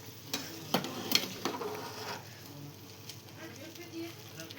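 Maggi noodles bubble in a pot while a spoon scrapes and stirs, producing soft irregular clinks and a low simmering hiss, fairly quiet and close with faint background noise.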